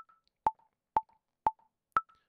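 Default metronome click in BandLab at 120 BPM: four crisp, evenly spaced ticks about half a second apart, clean and alone, with the final tick pitched slightly higher.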